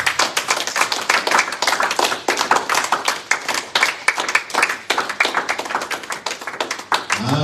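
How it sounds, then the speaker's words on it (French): A church congregation claps loudly and continuously in fast rhythmic bursts, filling the room with close, dense applause, and a few voices call out over it. "Est-ce que nous pouvons acclamer très très très fort?"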